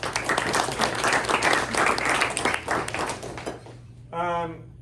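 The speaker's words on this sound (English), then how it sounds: "So let's give them a round of applause." Audience applause fills a press luncheon room, dense and sustained for several seconds before thinning out, followed by a brief voice.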